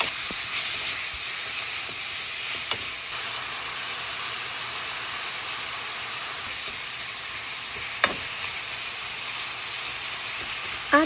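Ground meat frying in a hot pan for adobong sitaw, seasoned with salt and pepper, giving a steady, dense sizzle throughout with a few brief clinks of utensils against the pan.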